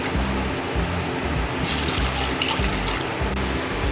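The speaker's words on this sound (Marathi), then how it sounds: "मी आता यामध्ये 2 ग्लास पाणी घालून घेते" Two glasses of water poured into a pan of sautéed curry leaves while making Malvani horse gram (kulith) pithla, a steady splashing, gurgling stream running throughout with a brighter rush in the middle.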